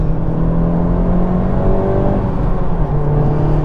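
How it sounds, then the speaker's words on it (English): A low, steady Honda Civic Type R GT engine drone with a rough, raspy exhaust tone, heard close and continuous without talking. "that sound from the engine, that exhaust note, and it just spurs you on"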